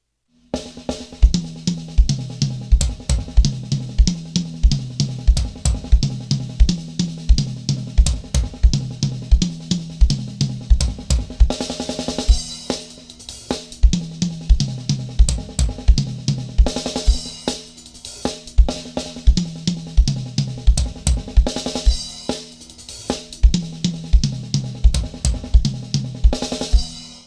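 Drum kit played in fast, dense 32nd-note bursts moving around the toms and snare with regular accented hits and cymbal crashes, loud and close, no talk.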